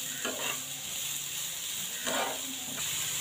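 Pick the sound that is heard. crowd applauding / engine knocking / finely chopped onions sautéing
finely chopped onions sautéing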